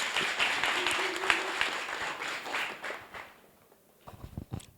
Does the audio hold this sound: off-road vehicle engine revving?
no